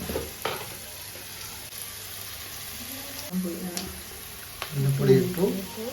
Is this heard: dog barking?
no